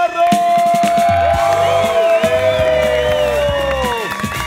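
A game-show studio audience in Bolivia cheering and applauding the winning team, a loud crowd roar under a sustained bright tone and music that runs from start to end.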